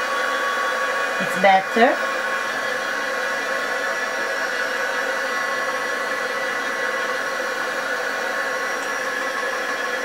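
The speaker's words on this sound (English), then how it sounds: "Let it dry, or dry it with your hot gun" A heat gun blows steadily to dry dauber ink on paper, a constant loud whooshing hum running the whole time, with a short spoken remark early on.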